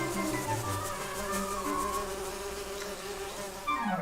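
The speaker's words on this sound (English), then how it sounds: "Oh no! The bees! The bees!" Swarm of bees buzzing in the video game Link's Awakening, a steady dense droning hum layered with game music tones, continuous and moderately loud with no talk.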